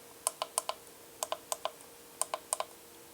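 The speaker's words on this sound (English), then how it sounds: "The buttons click well." Buttons on a Daxiongmao 8898 solder and hot-air SMD rework station clicking in quick pairs and small clusters, crisp and close with pauses between groups.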